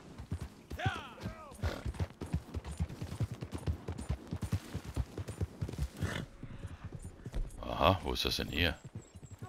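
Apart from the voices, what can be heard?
horse hooves clip-clopping, from a video game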